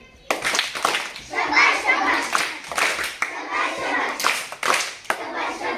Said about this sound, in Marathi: छान शाबाशकीची टाळी